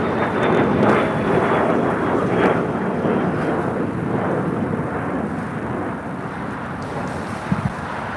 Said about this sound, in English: That is the all Dreamliner Flight 6 heading back to Tel Aviv on a 787-9 Dreamliner